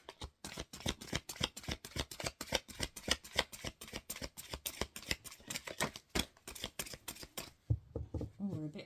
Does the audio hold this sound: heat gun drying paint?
no